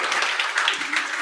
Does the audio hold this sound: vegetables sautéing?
no